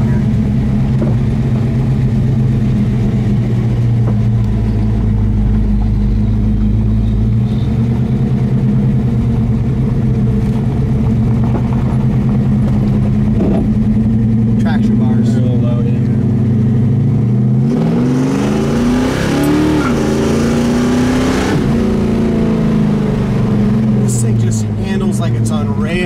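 A 1971 Chevy Nova engine idles steadily at a low, even rumble, then revs up sharply in several rising bursts before settling back down, loud and close throughout.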